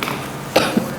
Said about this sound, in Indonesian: Saya lagi agak batuk ini.